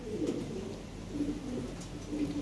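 Fancy pigeon cooing in repeated soft, low, throaty calls, close but gentle, over faint background noise with no talk.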